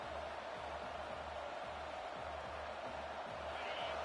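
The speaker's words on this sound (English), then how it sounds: "This crowd bringing the energy and noise early." Crowd at a Baylor college football stadium in a week 6 game, a steady, dense roar that holds at an even level throughout, with no clear individual voices standing out.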